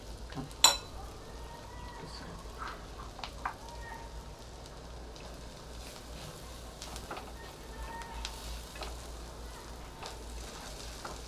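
Butter and thecha fry in a pan for thecha pav, a soft, steady sizzle running throughout, broken by a few light clinks of a utensil against the pan.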